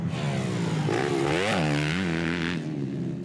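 Motocross bikes racing at round 1 of the Tasmanian Motocross Championships, a loud, continuous engine drone rising and falling in pitch as riders rev and shift, with no talk over it.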